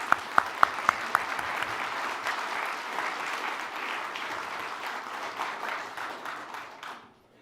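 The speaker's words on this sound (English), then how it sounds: "Let's give a round of applause to the OPG people." An audience applauds at a business address by the head of a nuclear power company, a sustained wash of clapping that opens with a few sharp individual claps and fades out near the end.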